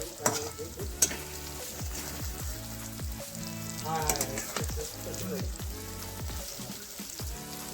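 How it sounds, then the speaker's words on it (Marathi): A spoon scrapes and stirs through a pan as boiled brinjals sauté softly in masala underneath, with irregular clinks and scraping strokes close by. "ही उकळलेली वांगी ह्यात मिक्स करायचं आणि परतून घ्यायचं"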